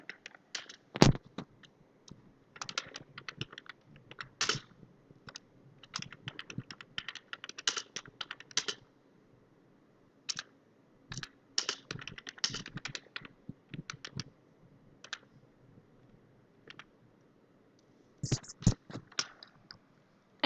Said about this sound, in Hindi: हम यहाँ पर टाइप कर देते हैं